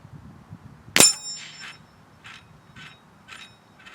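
An Air Arms S500 .22 air rifle fires one sharp crack, followed by a string of light metallic pings as pellets strike and spin distant steel spinner targets, each ping fainter than the shot.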